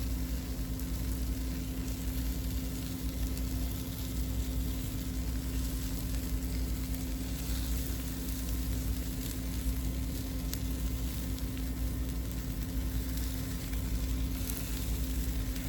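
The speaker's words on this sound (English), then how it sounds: "Then I'm going to just add my bacon on top." Bacon sizzles and fries steadily in a hot pan for a Jamaican-style turkey cheeseburger, a continuous close crackling hiss with no talk.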